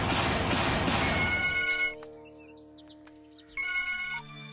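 A telephone rings loudly in bursts, with a gap of near silence before a second ring, going unanswered in a Hindi-dubbed action film scene.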